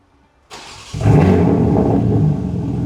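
A BMW G80 M3 with its S58 engine and ARM single mid-pipe exhaust fires up close by, a sharp start that swells into a loud, deep rev and settles into a heavy, rumbling run.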